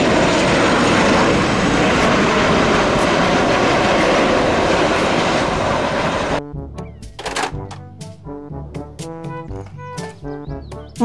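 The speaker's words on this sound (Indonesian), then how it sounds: "Pesawat terbang." Steady, loud roar of an airplane engine fills the first six seconds, then cuts to a series of short tonal plucks and notes.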